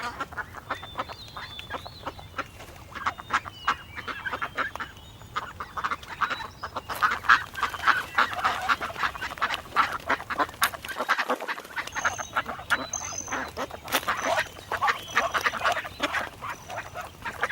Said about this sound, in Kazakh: қаз, қаз